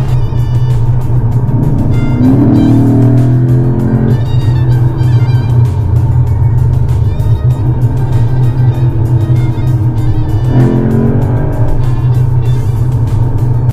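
A Lexus RC F V8 sports car engine drones loudly and steadily, rising in pitch as it accelerates, with a couple of revving surges; no talking.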